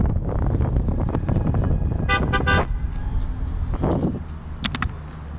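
A driver's car horn honks at a cyclist on the road: two short blasts, then a single toot, then a final double honk, close and loud over steady wind rush and traffic rumble.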